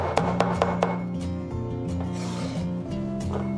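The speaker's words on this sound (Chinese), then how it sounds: "葱姜蒜给它切片。" A knife chopping scallion, ginger and garlic on a board, a quick run of about five crisp cuts at the start under a steady background drone and music.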